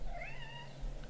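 A house cat gives one short, rising chirp that sounds faint and distant, as if from across the house, over a low background hum.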